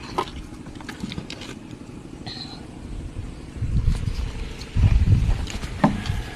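Strong wind gusts across an open outdoor spot during a coconut tuba harvest, a broad rushing roar that swells loudly in the second half with heavier buffeting bursts.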